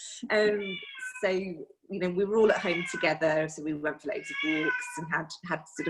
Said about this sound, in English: So sorry, you can hear the cat in the background as well.